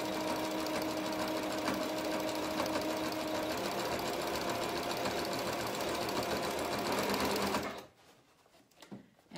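Sewing machine stitches steadily around a garment neckline, a loud continuous motor whir and needle rattle running unbroken for nearly eight seconds before cutting off abruptly, leaving faint handling noise.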